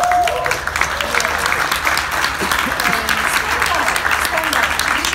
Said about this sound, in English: I would like just to give them A round of applause.